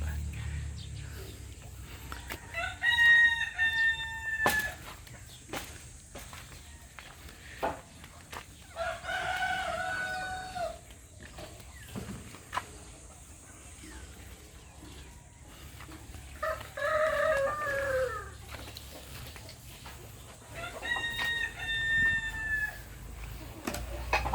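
Native backyard chickens crow several times, with clucks in between. The calls come from a moderate distance over steady outdoor background noise, and a few drawn-out crows repeat every several seconds.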